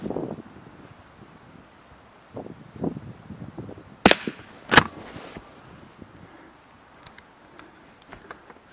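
A Blaser R8 rifle fires during a scope-mount return-to-zero test, with two sharp, loud cracks close together midway through, surrounded by faint wind and small handling noises.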